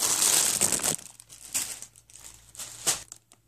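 A plastic bag holding fifty artificial roses from AliExpress crinkles and rustles close up, several crisp bursts of crumpling with brief pauses between, no voices.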